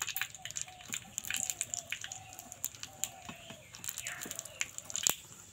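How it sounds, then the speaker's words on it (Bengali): Black mustard seeds sputter and pop in hot oil with curry leaves, giving scattered sharp crackles and tiny bursts over a soft frying hiss, fairly quiet and close. "সর্ষেটা যখন এইভাবে ফাটবে এটা কিন্তু বুঝতেই পারবেন এটা একেবারে রেডি"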